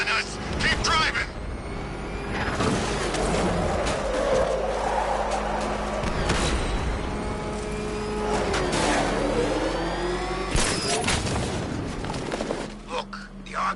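A car engine revs and roars through a chase in Batman: Arkham Knight, loud and sustained. Booms, shots and voices talking come through over it.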